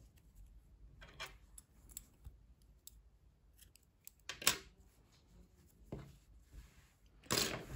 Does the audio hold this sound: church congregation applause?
no